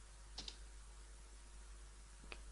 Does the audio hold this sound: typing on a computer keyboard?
yes